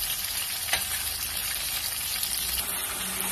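Chicken cooking in a pan gives a steady, close, dense sizzle that runs without a break and holds an even loudness, with no voices over it.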